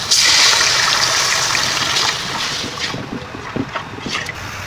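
Water poured into a hot pan of spice paste (masala) being cooked down for a hilsa and taro curry, giving a loud hissing rush that starts strong and settles into bubbling crackles, with no talking.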